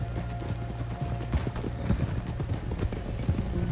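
A horse's hooves clip-clop in the Red Dead Redemption video game, a steady, close, rhythmic clatter of hoofbeats that continues throughout.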